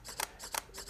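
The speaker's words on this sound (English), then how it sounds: "the shutter has to do a double movement to simulate the live view function because there is no mirror, and that makes quite some noise" An Olympus E-P1 mirrorless camera's shutter fires three times in quick succession. Each release is a faint, close double click from the shutter's double movement.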